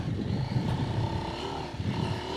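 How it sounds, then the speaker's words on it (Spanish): A Husqvarna Norden 901 adventure motorcycle rides off-road through sand, its engine droning steadily at moderate distance with a continuous low rumble and slight shifts in pitch. "Estamos con una moto que funciona muy bien fuera del asfalto."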